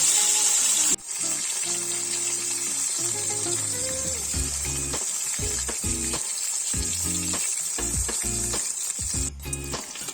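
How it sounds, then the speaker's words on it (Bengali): Steady hiss of bata fish frying in oil throughout, with music playing over it and no talking. "আর এক পিঠ ভেজে নেব।"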